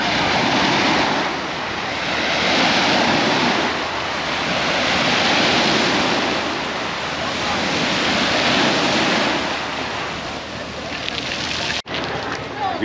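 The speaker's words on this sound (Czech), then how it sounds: "parádička vlny dneska" Sea waves break and wash onto the beach at Supetar on the island of Brač, Croatia, a loud continuous surf that swells and recedes in slow surges, with wind buffeting the microphone.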